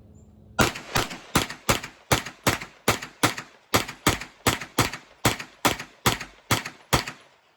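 Sixteen shots from a Smith & Wesson M&P FPC 9mm folding pistol carbine fired outdoors in a steady, evenly spaced string, each a sharp crack with a short decay, close and alone.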